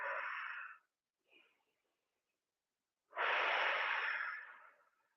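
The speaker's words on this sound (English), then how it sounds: "Nice deep breathing" Deep breaths during leg, hip, neck and shoulder stretching: a long close exhale, a brief faint intake, silence, then another long loud breathy exhale fading out.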